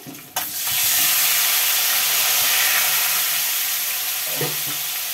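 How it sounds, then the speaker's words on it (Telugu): Eggs frying in hot oil in a home kitchen pan, with onions and green chilies added, giving a loud, steady sizzle after a sharp start. The hiss continues close up, with a faint clink near the end and no talking. "గుడ్లు ఫ్రై అయిపోయి ఉల్లిపాయలు పచ్చిమిర్చి వేసుకుందాం."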